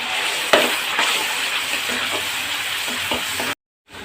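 Onions sizzle and fry in a pan after chicken has been cooked in the same oil, a steady close hiss with a few soft stirring knocks, then the sound cuts off briefly near the end.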